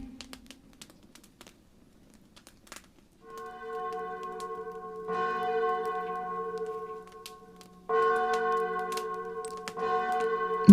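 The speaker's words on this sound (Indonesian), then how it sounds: "Dengar lonceng itu?" A bell rings from a castle's south tower, starting after a near-silent pause. Its sustained, humming tone swells in a few separate waves, each stronger strike lingering and overlapping the last.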